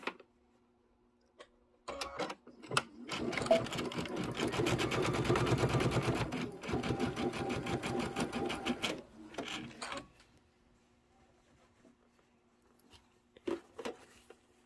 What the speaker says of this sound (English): I'm sewing them all on like that